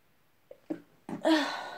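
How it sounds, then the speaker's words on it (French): A single person sneezes nearby, with a couple of small breaths building up before the loud burst at the end. "j'ai envie d'éternuer"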